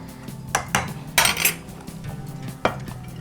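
Cooked chickpeas for chana chaat are served from a pan into a dish, with several sharp metal clinks and scrapes of a spoon against cookware in irregular bursts, fairly close, with no talk.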